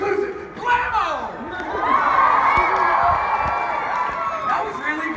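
A convention panel audience cheers and whoops after a promo screening at San Diego Comic-Con, crowd noise swelling and holding loud for several seconds, with shouts and a voice cutting through.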